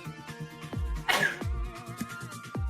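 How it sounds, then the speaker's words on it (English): A single sharp sneeze bursts out around the middle, amid a busy room with music or background sounds and occasional low thumps. "Well, bless you, whoever sneezed."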